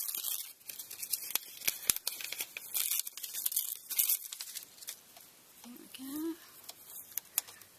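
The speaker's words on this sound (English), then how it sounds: "I'm now going to tear the pattern away" A paper sewing pattern is torn away from fabric after stitching tzitzit holes in a tallit: close, dry ripping and crinkling in several uneven bursts, with a brief faint tonal sound near the end.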